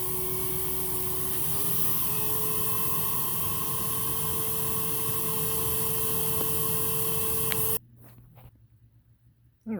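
A Metropolitan vacuum cleaner runs with wand suction on low, a loud steady whoosh with a sustained whine that shuts off abruptly near the end, leaving a fading rundown.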